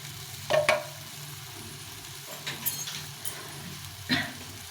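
Spatula stirring a soya bean mixture with Kashmiri chili powder in a pan, a few scraping strokes over a low, steady sizzle, fairly quiet with gaps between the stirs.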